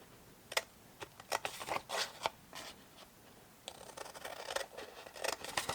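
Scissors cutting through a milk carton for a gift box, a close, quiet series of crisp snipping and scratchy slicing strokes in irregular bursts.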